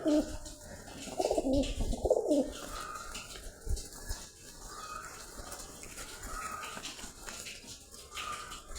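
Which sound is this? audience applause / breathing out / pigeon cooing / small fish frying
pigeon cooing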